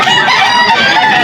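A rooster crows loudly and close by at a busy chicken market, its strained call filling the whole short moment.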